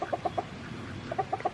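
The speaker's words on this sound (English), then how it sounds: "Oh, rooster. He's really interested in those ducks." A rooster clucking close by while eyeing a group of ducks outdoors, a quick series of short rhythmic clucks in two bursts separated by a brief pause.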